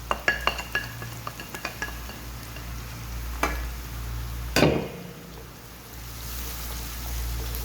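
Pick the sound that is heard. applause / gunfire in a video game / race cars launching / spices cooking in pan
spices cooking in pan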